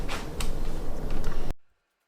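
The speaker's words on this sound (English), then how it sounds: "Gonna trim. Bandsaw time." A bandsaw trims a wooden blank for a guitar fretboard, a loud close continuous cutting roar with slight surges that stops abruptly into near silence.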